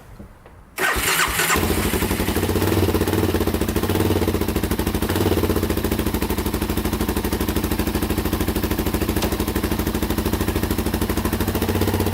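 A Can-Am DS 650 quad cranks and fires after a second of near silence, then settles into a loud, steady, close-up engine run with a rough, pulsing exhaust note and no talking.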